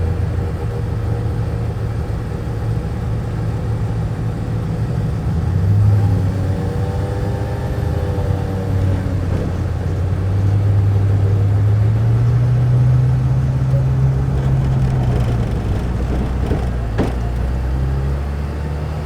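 A car engine runs steadily at close range, a continuous low rumble that swells slightly with a couple of mild revs partway through, with no one speaking.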